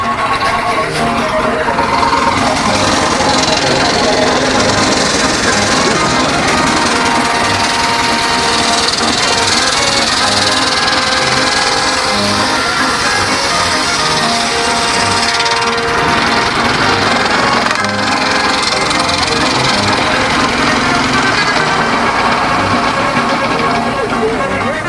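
A vintage wood saw mill driven by a steam traction engine runs continuously with a dense, loud mechanical clatter and rumble, steady throughout with only slight shifts in intensity.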